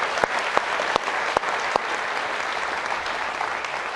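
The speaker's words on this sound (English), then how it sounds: "Round of applause for Jane, please." An audience at a Georgetown Law School event in Washington DC applauds steadily, a dense wash of clapping from a large crowd with a few sharp nearby claps standing out, continuing at an even level throughout.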